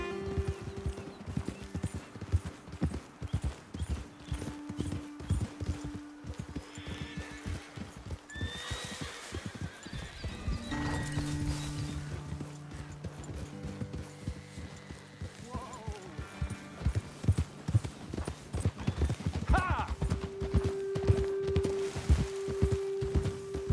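Horses in Red Dead Redemption 2 clip-clopping steadily along a trail, hooves thudding in an even rhythm close by, with occasional snorts and whinnies and faint outdoor ambience throughout.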